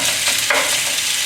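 Beef stir fry with ginger and garlic sizzling hard in a pan over high heat, a dense continuous crackle with a brief stirring scrape, no talking.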